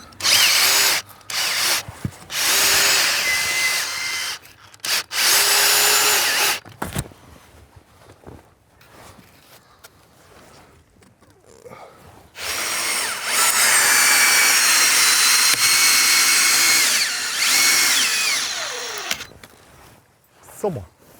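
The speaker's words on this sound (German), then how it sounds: "Drehe ich die Schraube wieder raus und lege das dahinter rein." Power drill backing a screw out of wood cladding on a house exterior, several loud whirring bursts separated by pauses, with a long sustained run near the end and speech in the gaps.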